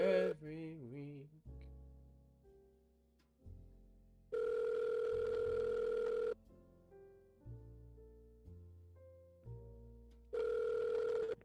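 A telephone call rings out before going to voicemail: two long, steady ringback tones separated by quieter tonal sounds, with a brief voice at the start.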